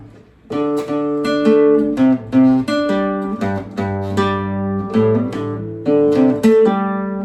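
A guitar plays a quick melodic phrase in plucked notes, with smooth hammer-ons and pull-offs between picks, repeated in a steady rhythm, close and clear.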